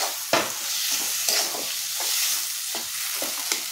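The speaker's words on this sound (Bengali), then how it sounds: "এটাকে এবার কষতে থাকবে" Bengali fish curry being sautéed in a pan, a dense continuous sizzle punctuated by regular spatula scrapes and stirring knocks, close and fairly loud.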